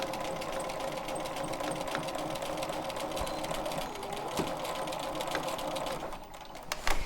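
A sewing machine stitches quilting swirls and petals across a triangle quilt block, a fast, steady mechanical hum with rapid needle ticking, close up, easing off near the end.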